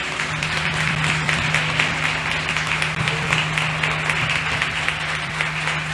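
Congregation applauding a pastor at a family church service, a steady dense wash of clapping held for several seconds under a low hum, with a faint voice now and then.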